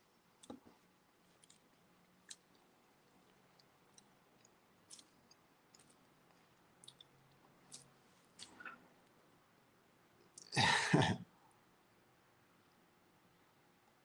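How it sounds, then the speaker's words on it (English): Gum chewed close to a microphone, with scattered faint wet smacks and clicks across the quiet, then one louder, longer smacking burst near the end. "I can't with the gum smacking on the mic."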